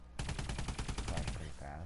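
Pulsar laser gun in AW, a Tron-like energy weapon, fires a rapid, steady stream of sharp pulsing shots, loud and close, across the whole burst before trailing off.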